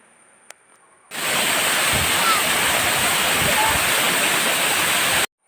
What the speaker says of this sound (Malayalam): ഉയരത്തിൽ നിന്ന് പാറക്കെട്ടിലേക്ക് വീണ് ചിതറുന്ന ജലത്തിൻ്റെ മാസ്മരികതയിൽ എന്തിനേയും തച്ചു തകർക്കാനുള്ള കരുത്ത് ഒളിപ്പിച്ചു വെച്ചിട്ടുണ്ട്